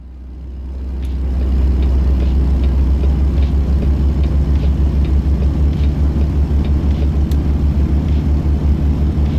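Truck engine in American Truck Simulator, a steady deep rumble that builds over the first seconds and then holds loud and even, with a faint pulsing throb and no talk.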